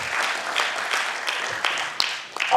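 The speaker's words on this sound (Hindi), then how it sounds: "एक बार जोरदार तालियों से स्वागत करें प्लीज अपूर सर।" Applause from an audience welcoming a guest onto a stage at an event, a dense steady clatter of many hands clapping, moderately loud and continuous for a few seconds.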